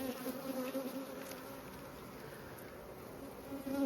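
Honeybees from a prolific, defensive colony hum steadily around an open hive during a frame inspection, a dense continuous buzz with several close insects droning near and passing by, no voices.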